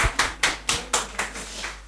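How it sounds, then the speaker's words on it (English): At a legislative theatre event in Nigeria, a few people clap in sparse, uneven bursts, about eight distinct claps over two seconds, thin rather than a full crowd. "Let's give a round of applause."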